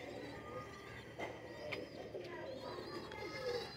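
Soft cooing of a Ferozpuri breeder pigeon, low rounded coos repeating close by against a quiet background, with a few brief faint chirps and rustles between calls.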